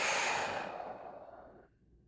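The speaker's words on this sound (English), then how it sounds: "Big breath in. And a slow exhale." A slow, deep breath drawn in and let out as a long exhale, close and soft, trailing off quietly over a couple of seconds with no talking.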